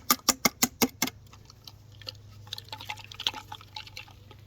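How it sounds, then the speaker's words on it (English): Six sharp, evenly spaced drips or taps of dirty water from an old Vauxhall Corsa C car horn, followed by scattered smaller trickling drops over a faint low hum. "It was full of like manky water that's like dripped everywhere."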